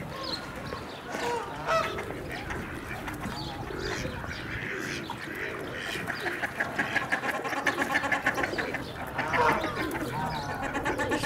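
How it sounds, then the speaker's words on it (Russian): Ducks calling in a noisy outdoor zoo scene in spring, a scatter of honking quacks that grow busier and louder toward the end, with voices nearby. "Уточка уже."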